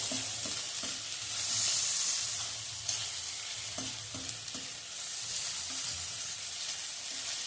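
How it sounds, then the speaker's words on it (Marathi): Finely chopped capsicum stirred in a steel kadai over a medium flame, with repeated scraping strokes of the spoon over a steady, soft sizzle and no talking. "गॅसची फ्लेम मीडियम ठेवायची आणि सतत हलवत राहायचे"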